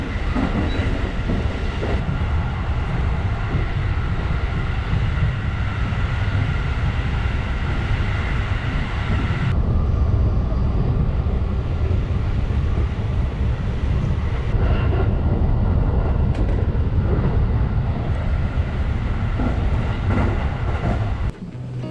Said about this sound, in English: After leaving Kyoto, the train gets super fast